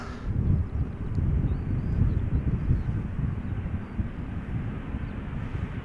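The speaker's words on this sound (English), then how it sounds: "this is KLM Flight 1228 touching down after having flown 44 minutes from Paris Charles de Gaulle to Amsterdam" A KLM airliner touching down at Schiphol Airport after a short flight from Paris, a distant low rumbling roar with wind noise on the microphone, fairly steady and fading slightly at the end.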